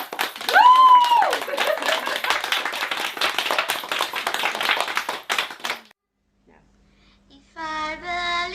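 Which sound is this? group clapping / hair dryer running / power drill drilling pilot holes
group clapping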